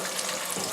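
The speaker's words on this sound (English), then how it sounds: "This is really gonna sizzle." Chicken frying in vegetable oil in a frying basket gives off a brief, dense, hissing crackle at moderate volume, heard close and alone.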